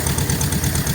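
A car engine idles steadily in a check for a vacuum leak, giving a continuous close, low rumble with an even pulse and no break through the whole moment.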